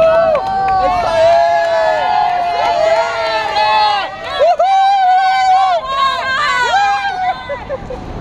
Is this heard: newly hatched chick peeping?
no